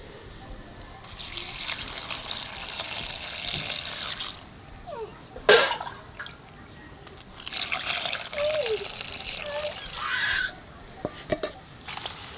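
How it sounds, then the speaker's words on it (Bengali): Neem leaves are rinsed under running water, with two long bursts of tap flow and splashing, separated by handling noises and drips, close by. "নিমের পাতাগুলো ভালো করে ধুয়ে নেব।"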